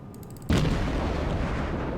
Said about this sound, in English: Try to anticipate these incoming shells.